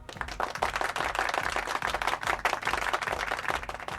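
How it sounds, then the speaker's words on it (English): A round of applause rises from many people at once, dense rapid clapping that stays fairly loud and continuous with a slight pulsing rhythm, no voices over it. "He gets a round of applause."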